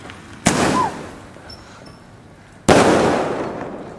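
Fireworks explode with two sharp loud bangs a couple of seconds apart, each followed by a crackling, fading rumble outdoors.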